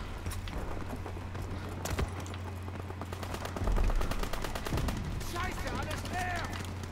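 Rapid submachine gun fire rattles in a Call of Duty WWII match, a fast stream of close shots with a heavier burst partway through, under game effects and chatter.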